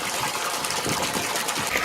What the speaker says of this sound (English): It's really cool that they have water running.